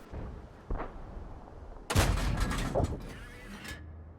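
Booming tank gun shots from a T71 firing at an IS-6 on Sand River in World of Tanks, a distant thud followed by a louder close blast and rumbling reverberation.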